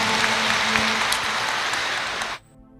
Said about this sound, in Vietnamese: Xin đại chúng một tràng pháo tay nữa để chúng ta cùng hoan hỉ.